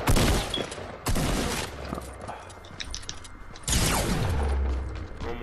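Fortnite gunfire in a battle at Tilted Towers: loud close shots, a heavy blast at the start and others around one and four seconds, with mechanical reload clatter between them.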